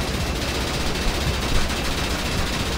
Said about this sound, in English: Oh, his guns are still going off somewhere.